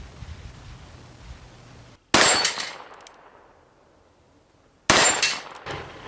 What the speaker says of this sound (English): we'll shoot the first string single action, and then we'll shoot the second string double action